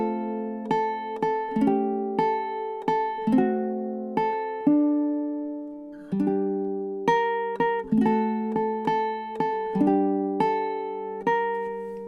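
Plucked ukulele chords and melody notes ring out alone at a relaxed, steady pace, each strum decaying cleanly before the next.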